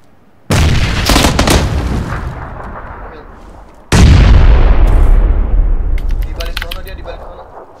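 Two heavy grenade blasts in PUBG, each a sudden loud boom followed by a long rumbling decay, the second even louder, with faint clatter and debris at the end.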